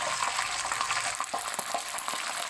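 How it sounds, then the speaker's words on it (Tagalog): Macaroni frying in hot cooking oil for chicha-roni, a steady, dense sizzle with scattered crackles and pops throughout, close and fairly loud, with no talking. "kumukulo ng ating mantika at ilalagay na natin ang ating macaroni"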